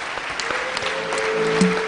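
An audience claps at a business event, a dense patter of hand claps that builds slightly in loudness over its short span, with a faint tonal hum underneath.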